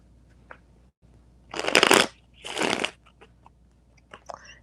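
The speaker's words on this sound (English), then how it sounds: "Now they're shuffling like a beaut." A deck of cards is shuffled nearby in two quick riffling bursts, followed by a few soft taps and rustles in a quiet room.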